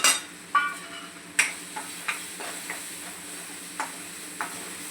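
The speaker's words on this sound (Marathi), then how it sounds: "आता यात आपण हे सगळे आपले मसाले जे घेतले आहे हे टाकून घेऊया" A spoon stirs spices into tomato masala cooking in a pan over a low soft sizzle, with a string of light scraping taps spaced about half a second apart.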